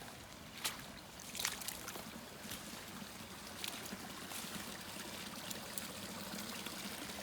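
Water running off one spot along a rain-swollen creek branch, a soft, steady trickling and babbling flow with a few brief splashy peaks, faint and continuous.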